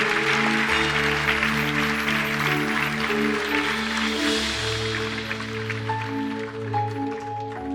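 Church congregation applauding the Lord during a worship service, a steady wash of clapping from a large crowd over sustained organ or keyboard chords, no speech.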